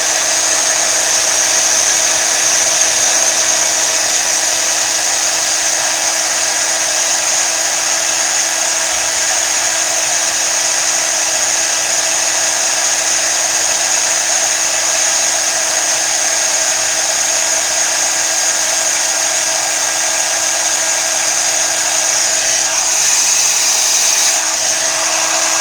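A heat gun blows steadily on a homemade shaker card, a loud, continuous whooshing hum that runs unbroken and close to the mic with no speech.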